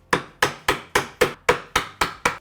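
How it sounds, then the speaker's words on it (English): A mallet striking a narrow chisel while chopping a dovetail socket in wood, eight sharp, loud, evenly spaced knocks about a third of a second apart, each decaying quickly, with no talking. "So we'll start with a narrow chisel, but instead of going in perpendicular, we're going to slightly angle it out like that."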